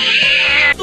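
A single close, loud cat meow, a drawn-out wavering cry that ends abruptly with a short rising squeak.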